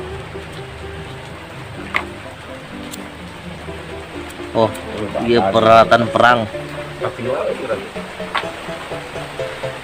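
Rain falls steadily as a constant broadband hiss, with someone talking over it and his voice growing louder in the middle.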